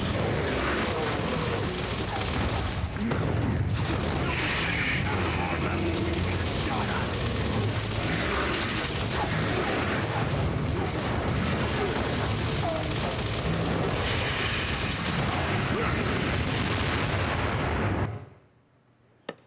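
Heavy booming fire from a big gun in the Gears of War video game, thick and continuous with explosions and mechanical clatter, loud and dense before cutting off abruptly near the end.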